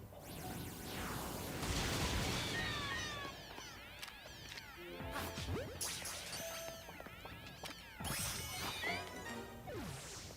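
Charizard's Flamethrower attack in a Pokémon battle against steel-type Galarian Meowth, a dense burst of whooshing fire and crackling impact effects with chirpy game sound cues layered over it, loud and close with no talk.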